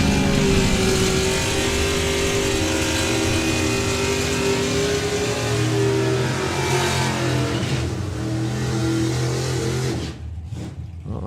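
A doorslammer drag racing car makes a full-bore run at a drag strip, its engine roaring loud and sustained for about ten seconds before cutting off abruptly, with no voices.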